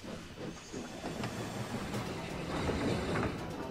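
Steam engine Stewart pulls a train, giving a quiet, steady hiss of steam over a low rumbling roll with faint rhythmic clicking of wheels, heard from a distance with no voices.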